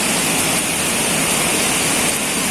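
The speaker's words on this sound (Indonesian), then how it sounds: "tak terbendung lagi hujan nih." Heavy rain pouring at a riverside campsite at night, a dense, loud, unbroken wash of noise with no gaps and no talking.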